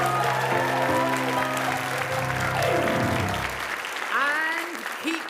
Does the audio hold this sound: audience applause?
yes